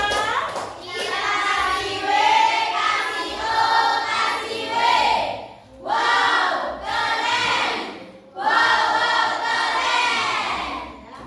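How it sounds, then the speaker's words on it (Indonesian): Classroom group of students applauding for group 3, several bursts of loud, dense clapping and cheering separated by short pauses. "Iya, tepuk tangan dulu untuk kelompok 3."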